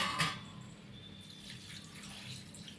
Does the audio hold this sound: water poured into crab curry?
yes